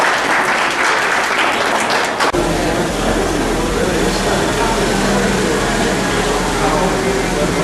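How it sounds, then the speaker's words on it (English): A crowd claps for Angelo, a competitor at a car audio event, the applause dense at first and then giving way after about two seconds to a low droning rumble and loud hall noise. "Everybody give Angelo a round of applause."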